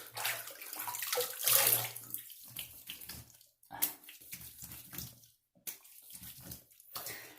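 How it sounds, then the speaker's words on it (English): Tap water running in a sink while rinsing after a shave, an uneven close splashing flow with breaks and shifts as hands move through the stream, fairly quiet. "Let me rinse up."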